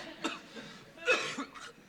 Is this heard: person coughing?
yes